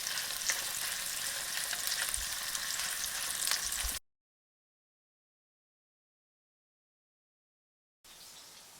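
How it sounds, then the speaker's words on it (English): Shrimp cakes sizzle softly in a pan over the lowest flame, a quiet continuous fry that cuts to complete silence for several seconds before resuming. "I'm going to cook this batch on the slowest possible flame"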